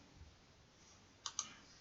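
Two quick, faint mouse clicks sound close together over a quiet room hum, with no talking.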